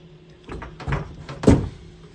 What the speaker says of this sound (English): as the door closes